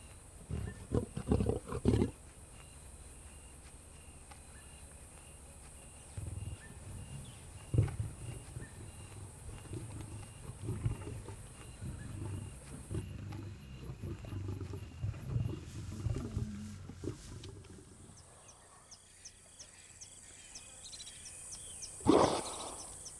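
Lions attack a buffalo at night, with deep roars and growling bursts rising intermittently over a quiet nighttime background and a few louder snarls near the end.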